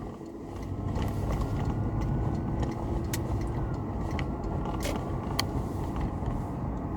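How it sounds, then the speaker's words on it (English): Road traffic passing around a car in a busy street, a steady wash of tyre and engine noise heard from inside the vehicle at moderate level, with faint clicks and knocks and no voices. "I've got a lot of traffic here"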